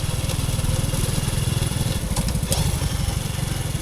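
A Honda Wave motorcycle, a four-gear step-through, runs with a loud, close, rhythmic single-cylinder putter while riding, its pulse shifting slightly as gears change partway through.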